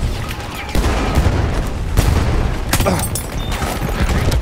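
A grenade blast in Battlefield 1 booms within a dense, continuous din of gunfire and explosions, with one loud burst standing out against the heavy battle noise.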